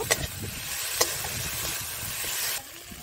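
Ginger and tomato go into a pan of frying fish and get stirred. A steady close sizzle runs throughout, with a couple of sharp utensil clinks near the start, then cuts off abruptly near the end.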